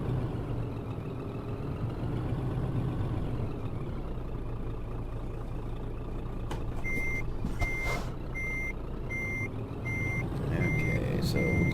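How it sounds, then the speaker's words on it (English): In Euro Truck Simulator, a truck backs under a trailer in England, its engine rumbling low while evenly spaced electronic reversing beeps start partway through and repeat steadily to the end. "so we'll just back up under this trailer here"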